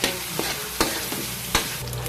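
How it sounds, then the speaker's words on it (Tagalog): Hotdog pieces frying in a pan crackle steadily as a spatula stirs them, striking the pan in three or four crisp clacks over the continuous sizzle, close and loud. "mix ulit natin para maluto yung hotdog"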